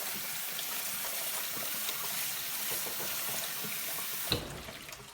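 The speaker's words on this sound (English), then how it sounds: "What you're going to want to do is strain it because there's a lot of salt." Soaked saltfish is strained under running tap water, a steady rushing flow into a sink that continues throughout, ending with a sharp clunk.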